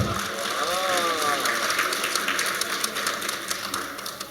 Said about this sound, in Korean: 우리 비행기에 박수 한번 해주세요.